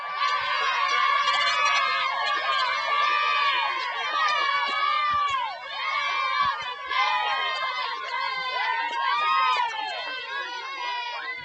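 High school cheerleaders and the crowd at a football game shout a cheer together, a dense wall of excited high-pitched yelling and screaming that swells and surges steadily throughout.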